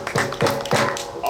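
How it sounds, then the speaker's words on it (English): An audience claps together on a count at a Porchfest variety troupe show, with three or four sharp, evenly spaced claps close up and a voice talking over them. "let's make sure you can actually clap"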